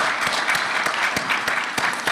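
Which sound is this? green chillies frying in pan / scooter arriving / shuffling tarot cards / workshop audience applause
workshop audience applause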